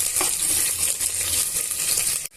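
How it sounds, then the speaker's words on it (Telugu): Thin sliced onions and green chilies fry in hot oil and ghee for an aloo matar pulao, giving a dense, bright, steady sizzle that cuts off abruptly at the end. "ఇప్పుడు ఇందులోనే సన్నగా పొడవుగా కట్ చేసి పెట్టుకున్న ఉల్లిపాయ ముక్కల్ని, పచ్చిమిరపకాయ ముక్కల్ని యాడ్ చేసుకొని వేయించుకోవాలి."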